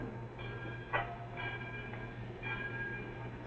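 Steady rumble of a train running along the rails, with rhythmic clacks roughly once a second, staged as a sound effect in a 1949 radio drama; no talk over it.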